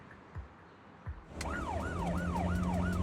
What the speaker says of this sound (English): a car hurtles down the street, siren blaring